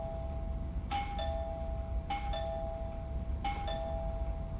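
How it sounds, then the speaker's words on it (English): An electronic ding-dong doorbell rings three times in even succession, clear and moderately loud against a low steady hum, with no voices. "I'm ringing the doorbell."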